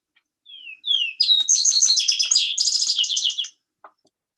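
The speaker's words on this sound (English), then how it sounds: "2 to 4 long clear notes followed by musical slurs and trills" A vesper sparrow sings alone and close: two slurred clear notes, then a long run of bright musical trills and warbles lasting a few seconds, followed by a faint brief call.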